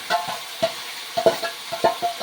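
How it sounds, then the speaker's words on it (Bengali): Shredded cabbage tossed into a hot tempering of cumin seeds, dry red chilli and bay leaf in oil: short sizzling bursts and spatula scrapes land in quick succession, loud and close, with no talk. "এখন আমি বাঁধাকপিটা সম্বারে দিয়ে দিচ্ছি"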